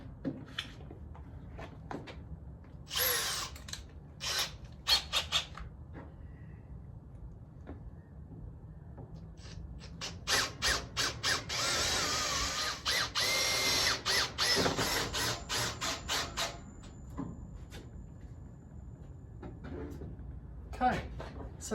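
Power drill driving screws into a timber workbench top on a steel frame, with short whirring bursts early on, then a long buzzing run with repeated spurts, mixed with clunks and handling noise, close by, and someone talking in between.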